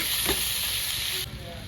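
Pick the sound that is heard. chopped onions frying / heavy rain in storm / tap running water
chopped onions frying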